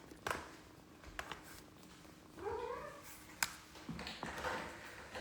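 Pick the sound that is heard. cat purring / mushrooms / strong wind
cat purring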